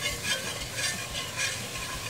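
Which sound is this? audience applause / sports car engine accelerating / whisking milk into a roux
whisking milk into a roux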